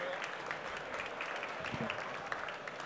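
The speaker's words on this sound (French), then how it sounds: "Merci de l'accueillir avec un tonnerre d'applaudissements" Studio audience applause welcoming a guest, steady crowd clapping and cheering at moderate volume, continuous throughout with a voice briefly heard beneath it.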